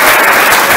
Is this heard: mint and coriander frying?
no